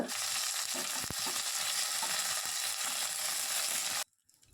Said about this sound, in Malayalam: ബാക്കി വന്ന എണ്ണയിലേക്ക് കാൽ ടീസ്പൂൺ അളവിൽ കടുകിട്ട് പൊട്ടിക്കുക